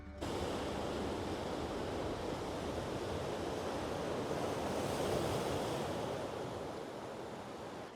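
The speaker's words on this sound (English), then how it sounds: "there are some absolutely monster waves rolling in here" Large ocean waves break along the Algarve coast of southwest Portugal, a continuous roaring wash of surf with steady wind buffeting the microphone, loud and close with no voices.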